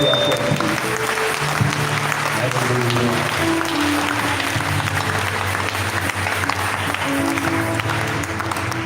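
A church congregation applauds at a thanksgiving vigil, steady dense clapping filling the space throughout with a broad wash of hands and some voices mixed in.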